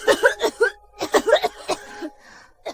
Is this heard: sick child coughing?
yes